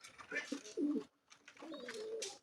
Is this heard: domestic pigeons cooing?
yes